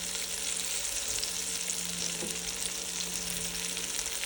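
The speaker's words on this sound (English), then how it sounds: "So we will let them cook with the lid on and on low to medium flame" Stuffed eggplants sizzle steadily in a pan over low to medium flame, a continuous close crackle and hiss with no talking.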